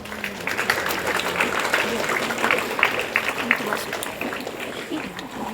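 Audience clapping during an Indonesian-language class quiz, a scattered round of applause from a small group, moderately loud, with voices murmuring underneath.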